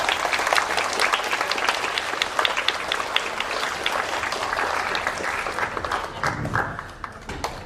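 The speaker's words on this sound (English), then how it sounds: "So please give them a round of applause." Audience at a high school humanities symposium bursts into sustained applause, a thick, lively wash of many clapping hands lasting several seconds and tapering slightly at the end.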